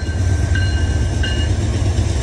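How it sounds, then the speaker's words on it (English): A Norfolk Southern intermodal freight train, fully laden with international cargo, rumbles past on the Greenville District with a loud, steady low roar and a faint high ringing tone. "Coming in hot via Norfolk Southern's Greenville District, this intermodal is fully laden with international cargo"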